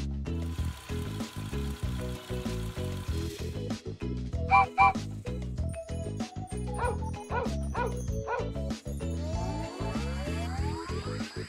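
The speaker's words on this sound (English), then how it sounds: "Dog." Farm-animal dog barking in a children's cartoon: several short barks and yips come in bursts over a steady, loud backing of music.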